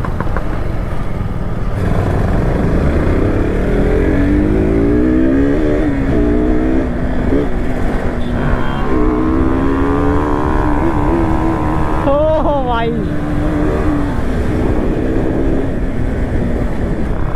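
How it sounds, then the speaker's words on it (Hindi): Sport bikes, a Yamaha R15 V4, KTM RC 200 and R15 V3, roar during a drag race, with exhaust notes rising in pitch through repeated gear pulls. The sound is loud and continuous for about seventeen seconds, with faint voices in the background. "बाइक का जो आवाज़ आ रहा है एग्जॉस्ट है"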